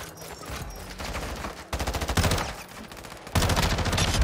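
Rapid automatic gunfire crackles through a shooter video game, arriving in several loud, choppy bursts of quick shots separated by brief lulls, each later burst louder than the one before.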